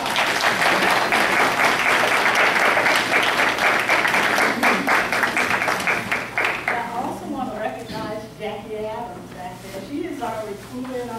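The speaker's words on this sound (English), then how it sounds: "I want y'all to give them a round of applause, because they work hard" Audience applause for agency staff at an adoptive family of the year event, a loud sustained round of clapping that fades after about seven seconds as a voice begins talking over the room.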